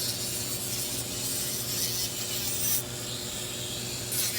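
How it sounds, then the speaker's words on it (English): A 120 grit sanding drum grinds against a silverplated butter knife, a continuous harsh rasping that stays close and steady throughout. "the drum I'm using is a 120 grit drum on the sander here"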